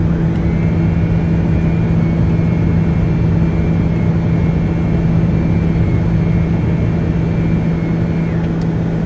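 A TBM 900 turboprop roars steadily through its takeoff run in a flight simulator, a loud, continuous droning engine note with a thin whine above it, unbroken for the whole stretch.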